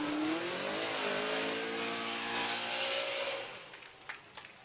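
A Formula Drift car at a New Jersey round launches away with a loud engine roar, pitch climbing as it accelerates, then fading into the distance, leaving faint background noise.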